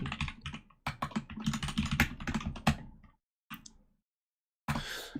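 Rapid clatter of computer keyboard keys being typed while coding a chat application with React, Redux and NestJS, close and steady for about three seconds, then a short burst and a final flurry after brief pauses.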